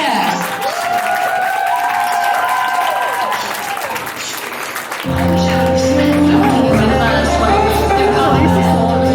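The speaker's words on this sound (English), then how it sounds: "Joy, we can applaud her." An audience at a fan convention panel applauds steadily, a dense and loud wash of clapping heard from among the crowd. Music with a steady beat then cuts in over it and carries on.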